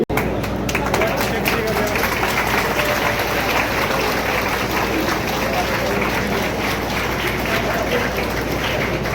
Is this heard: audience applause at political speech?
yes